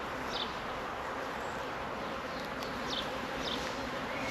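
Honey bees buzz steadily around an open beehive during an inspection, a dense continuous hum near the listener with a few brief higher whines of individual bees passing close.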